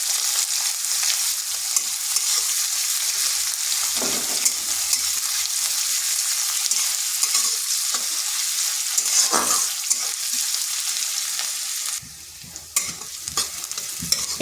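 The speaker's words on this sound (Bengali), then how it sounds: "পেঁয়াজটা একটু ভেজে নিচ্ছি" Long-sliced onions fry and get stirred in a pan, giving a loud continuous sizzle with a few scraping stirs, and the sound thins out near the end.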